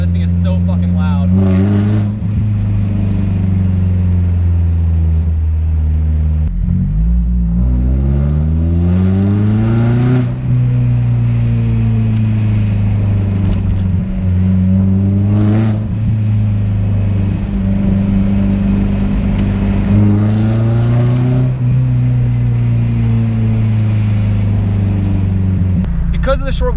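A loud, lowered, turbocharged Mazda Miata drives through town, its engine droning and rising in repeated revving pulls with shifts between them, close and dominant under someone talking throughout.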